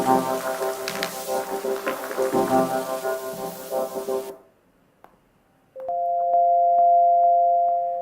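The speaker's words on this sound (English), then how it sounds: "Which are actually sine tones, so pure tones, but that I've repitched. But they're also still quite harsh." Repitched harsh sine tones layered in Ableton Live appear as a pure, steady pair of held tones that enter loudly after a dense, rustling textured passage and a brief near-silent gap.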